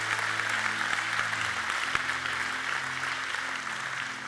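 A church congregation claps steadily in praise of God, a fairly soft, even wash of many hands over sustained keyboard tones, with a few sharper claps standing out near the start.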